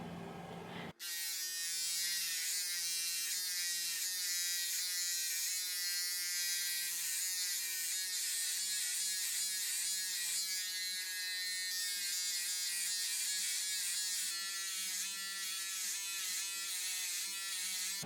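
Electric hair clippers buzz steadily and close up while shaving a head down to 5 millimeters, a continuous drone that starts after a brief pause and runs on alone.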